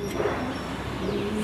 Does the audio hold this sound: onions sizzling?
no